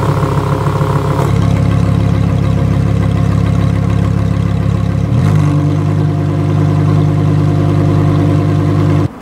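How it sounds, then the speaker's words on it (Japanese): A Lamborghini supercar's exhaust in Corsa drive mode holds a loud, close, steady idle rumble that shifts to a deeper, heavier drone partway through and then cuts off abruptly at the end. "こうやって3段階でマフラーの音が変わるんです。"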